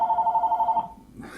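A telephone rings as a sound effect: a steady trilling ring pulses evenly for nearly a second, then cuts off, leaving faint room noise and a brief low murmur.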